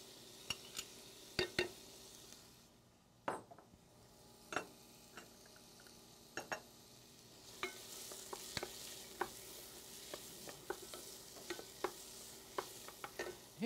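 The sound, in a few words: vegetables and shallots sweating in a pan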